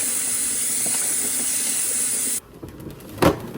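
Basil leaves being washed under a running kitchen tap, a steady, loud hiss of flowing water that stops suddenly partway through, followed by quieter handling noises and a short splash.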